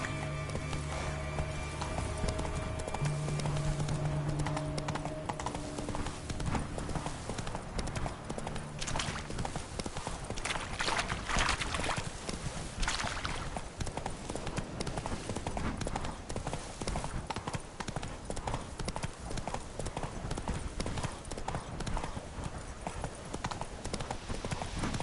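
A horse's hooves clip-clop at a steady gallop in The Witcher 3: Wild Hunt, Blood and Wine, with dense rhythmic beats running the full length over a busy game soundscape and music.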